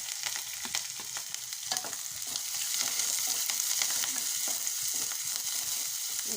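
Green chillies dropped into hot oil crackle and sizzle loudly and steadily, a dense spitting fry with light stirring, close up and without any talk.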